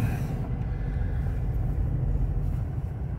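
An old 1989 Subaru GL wagon with a five-speed and four-wheel drive, a barn find, drives along with a steady low engine rumble and road noise, fairly loud and continuous throughout.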